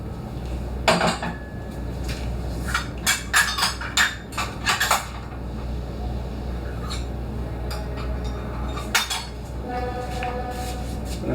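A cooking pot being picked up and handled to make oatmeal, with a cluster of clattering metallic knocks and clinks near the start, then quieter background with a later clank, close up.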